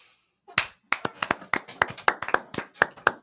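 Hand claps from a standing ovation, sharp and close, coming in an uneven, sparse run of roughly a dozen slaps after a brief quiet start, more like a few people clapping than a full crowd.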